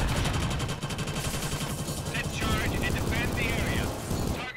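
Continuous automatic gunfire from Killzone Shadow Fall online multiplayer roars loud and dense throughout, a sustained rattling barrage with mechanical whine over the top and a voice talking beneath it.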